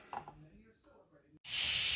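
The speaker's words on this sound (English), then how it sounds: "I'm actually releasing the steam" An Instant Pot pressure cooker vents steam in a sudden loud, steady hiss that starts abruptly after quiet kitchen sounds and brief murmured talk.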